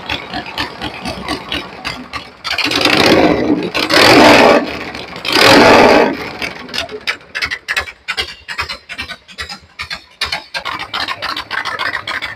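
Harley-Davidson Shovelhead FXE 1200 fitted with an S&S Super E carburetor idling around 1000 RPM, with close, loud bursts of revving in the middle before it settles back to an uneven, pulsing idle.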